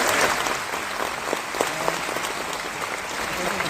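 Applause from an audience at an Amway Star Award event in Mumbai, a steady wash of hand claps that runs throughout at moderate loudness, with a faint voice underneath.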